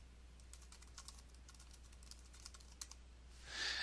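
An email address is typed on a computer keyboard as a run of quick, light, close key clicks over a quiet room hum, with a soft rushing noise rising at the end.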